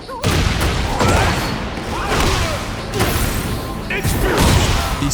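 An explosion in a fighting video game comes as loud, dense bursts of blasts and impacts, repeating in waves over several seconds. A voice talks over it.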